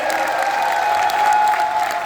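A crowd at a business gathering gives loud, sustained applause in honour of their mentor. A faint steady tone sits beneath the clapping throughout.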